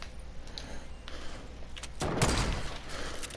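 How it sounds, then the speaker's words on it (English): A heavy sniper rifle shot in a Fortnite duo match, a single loud broadband blast at mid-clip with a short reverberant tail over quiet game ambience. "Yes, that's a sniper."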